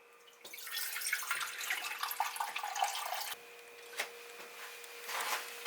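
Water pours into a bowl for tteokbokki, a steady bright splashing stream that runs for about three seconds, then drops to a quieter trickle with a few faint drips and clinks near the end.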